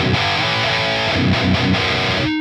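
Electric guitar played through an effects pedal set to a very small-room reverb, a loud, steady stream of picked notes and chords with a slightly distorted edge, ending on a sustained ringing note.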